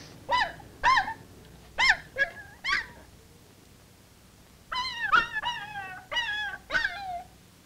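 A dog whimpers and yips in a 1956 film scene, giving a run of high, nasal, wavering cries in two clusters with a short pause between, close and fairly loud, with no talking.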